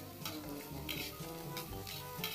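Food sizzles in a home cooking pan while a utensil stirs and clinks against the metal in a busy, continuous clatter, close and moderately quiet.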